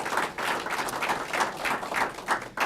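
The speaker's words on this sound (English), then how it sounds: "let's go ahead and give Christopher one more round of applause" A small audience at a police swearing-in ceremony claps in a steady round of applause, a dense patter of hands lasting a few seconds.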